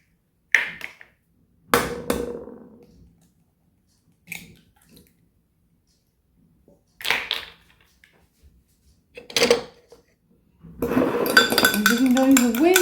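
Eggs are cracked into a cup for an old-fashioned apple cake, with sparse separate clinks and taps and long pauses, then a burst of fast, continuous whisking against the cup at the end.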